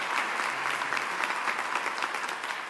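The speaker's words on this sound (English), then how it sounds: "Please give them a round of applause." An audience at a Milwaukee grant announcement event applauds steadily, a dense wash of clapping that holds at an even, fairly loud level throughout with no talk over it.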